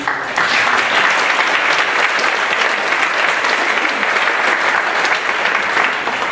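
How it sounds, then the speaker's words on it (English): Audience at a GAAP speech event applauding steadily and fairly loudly, a dense wash of clapping that holds evenly for several seconds with no talking over it. "I think you all should give yourselves a round of applause for the achievements"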